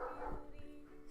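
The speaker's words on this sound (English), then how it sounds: "I hope you guys can't hear the dogs, but I feel like you probably can." Dogs bark faintly in the background, a couple of short muffled yips in about a second, distant and quiet.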